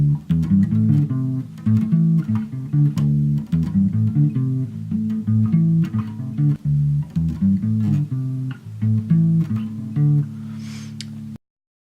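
An electric bass plays a riff at a brisk pace, repeating notes in a driving, steady groove, clear and close without any talking.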